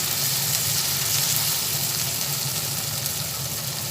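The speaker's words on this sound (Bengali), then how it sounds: "তেলের মধ্যে সব ভালোভাবে ভেজে নিচ্ছি" Ginger and spices fry in hot oil in a pan for ghugni, a steady, dense, close sizzle that holds level throughout with no voices.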